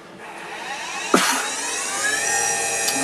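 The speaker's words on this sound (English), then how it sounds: "if I take the spindle speed up to its max in the low speed spindle, 5000 RPM" A Tormach PCNC440 CNC mill spindle motor winds up to its 5000 RPM maximum with a rising high-pitched electric whine, loud and steady after a short clunk, no talking.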